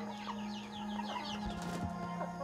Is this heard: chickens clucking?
yes